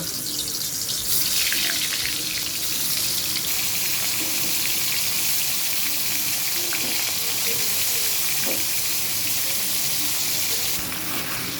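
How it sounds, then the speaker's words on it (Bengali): Pieces of shankar (stingray) fish fry in hot oil in a kadai, producing a loud, steady, close hiss that holds evenly throughout with no breaks. "মাছগুলোকে ভেজে নেব"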